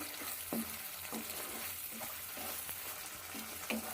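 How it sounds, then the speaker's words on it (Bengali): Spice paste frying in oil for a tilapia curry, a soft, steady sizzle close by with rhythmic spatula scrapes and stirring strokes, no talking. "মশলাটা কষানো হয়ে গেছে দেখুন মশলা থেকে তেল ছেড়ে দিয়েছে"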